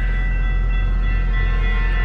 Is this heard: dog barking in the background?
no